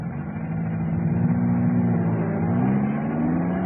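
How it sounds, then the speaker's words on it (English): A car-driving-off sound effect in a live radio drama: an engine runs steadily at moderate loudness, a low rumble that rises slightly as the vehicle pulls away. "Wait for the car to drive off."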